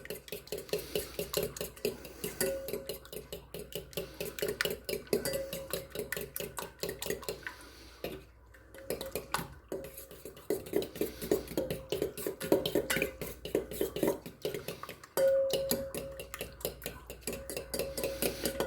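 Eggs beaten with water, salt and pepper in a bowl, a fork or whisk clattering against the sides in a fast, steady rhythm that barely pauses once, close and continuous without talk.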